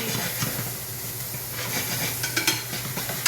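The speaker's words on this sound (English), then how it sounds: "We're going to give those mushrooms a stir." Mushrooms stirred and sizzling in a pan while cooking for a Texas-style Philly cheesesteak, a steady close hiss with light scraping and clicks of the utensil toward the end.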